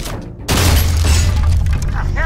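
Loud, deep bomb explosion in Batman: The Telltale Series, a sudden boom that swells into a sustained low rumble with crackling debris, after a brief quiet gap.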